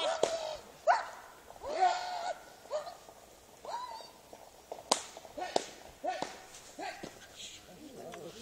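A dog barks repeatedly in short, sharp bursts, some turning to whimpers, mixed with excited people talking and shouting nearby and footsteps.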